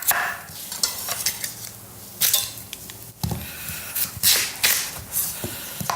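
Chopped food going into a hot pan in a home kitchen, with a sizzle and stirring scrapes and clatter, close and fairly loud, uneven bursts with no talking.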